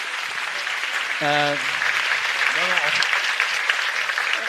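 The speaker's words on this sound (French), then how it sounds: "on peut applaudir" An audience applauds at a French talk on fighting the far right, a continuous wash of clapping throughout. Voices speak briefly over it.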